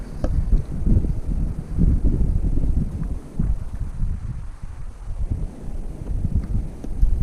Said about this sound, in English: The wind is so strong out here